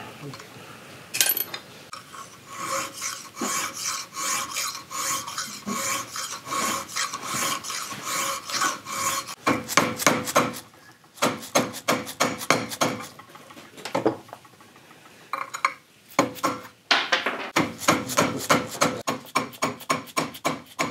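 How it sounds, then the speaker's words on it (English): A hand file works a wooden dovetail to fit a rifle barrel tenon on a Traditions St. Louis Hawken build. Close, rhythmic rasping strokes come in quick bursts, separated by brief pauses. "It took a little bit of file work as you saw."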